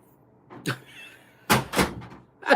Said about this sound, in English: She just closed my door.